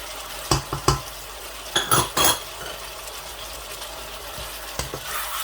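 Chicken jalfrezi frying in a pan as tomato paste is stirred in, with several short metallic scrapes and clinks of a utensil against the pan over a faint steady sizzle, no voices.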